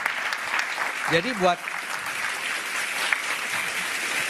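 Steady audience applause fills the whole stretch at a political talk show debate, a dense clapping wash with a brief spoken word cutting through near the middle.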